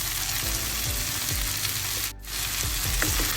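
Prawn curry sizzles steadily in a pan with chilli powder, turmeric, onion and tomato, a loud close frying hiss broken by soft stirring scrapes and a brief dip near the end, with no talking.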